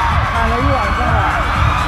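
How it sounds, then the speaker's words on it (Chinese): Fans scream at a celebrity outside a hotel in Thailand: a loud, steady wall of overlapping high-pitched shrieks and cheers from a crowd, with individual voices rising and falling throughout. "你们听到尖叫声了吗？"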